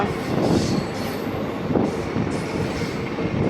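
An electric MEMU passenger train running at speed between Ernakulam and Kottayam, heard from inside as a steady loud rumble with rhythmic wheel clatter and faint high squeals, no speech.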